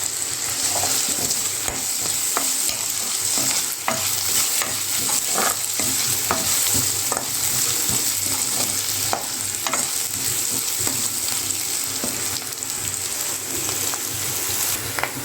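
Curry masala with green chillies frying in a pan for a jackfruit seed and cashew curry, a steady dense sizzle with frequent sharp crackles and pops, close and loud throughout with no voices.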